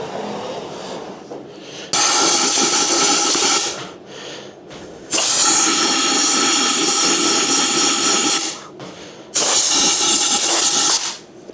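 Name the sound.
compressed air blowing out a Harley Davidson part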